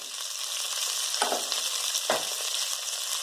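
Washed mixed vegetables for Bhogichi bhaji sizzle in hot oil in a pan with a continuous bright hiss, broken by two short scraping stirs.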